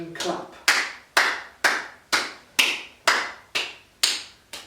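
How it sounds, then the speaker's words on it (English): Hands clap in a steady series of about nine sharp, evenly spaced claps, close and crisp, during a beginners' yoga self-massage routine. "and then clap."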